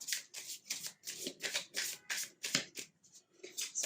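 Gypsy Oracle cards are shuffled by hand in a steady run of riffling, flapping bursts, close and fairly loud, repeating about every half second with no voice over them.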